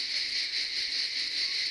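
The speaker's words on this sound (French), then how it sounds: "Qu'est-ce que c'est qu'on entend? Les cigales." Cicadas by the sea keep up a steady, loud, high-pitched buzzing drone with a slight pulsing texture, continuous and close, with no voices over it.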